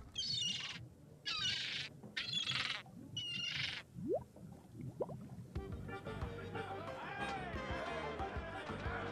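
Parrot squawks in The Secret of Monkey Island Special Edition, several harsh bursts in quick succession followed by chirps and a shift into busier game sound.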